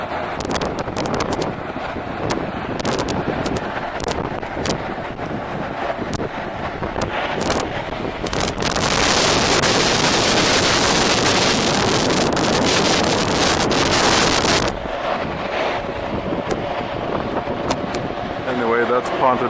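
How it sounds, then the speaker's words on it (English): Strong wind roars across the microphone throughout at Ponta Delgada, near a breakwater, rising to a loud, dense rush in the middle before easing back to gusty buffeting with crackling. "It's actually windy, as you can hear"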